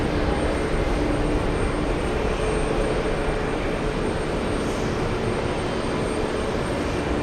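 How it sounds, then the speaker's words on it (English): Airliners taxi toward the runway for takeoff at JFK airport, a steady, broad jet engine roar that holds at an even loudness throughout, with no voices over it. "We have the Irish taxiing to the runway for takeoff."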